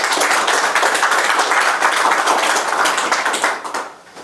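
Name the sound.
audience applause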